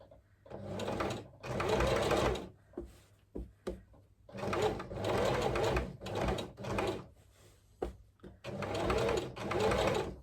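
A domestic sewing machine fitted with a quarter-inch foot quilts rows on a primary-colours picnic quilt, running in repeated close bursts of rapid needle stitching separated by short pauses and small clicks.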